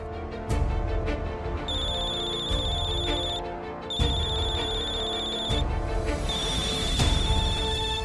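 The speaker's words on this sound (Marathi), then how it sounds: "हे बघ, काव्याचा फोन आहे." A phone ringtone rings in three repeated bursts of steady electronic tones, with muffled background noise underneath.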